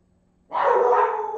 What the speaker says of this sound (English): What is all that barking?